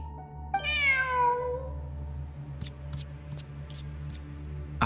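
A cat in the video game Genshin Impact lets out a single drawn-out, rising-then-falling meow, clear and close, followed by a few faint ticks over a low steady background hum.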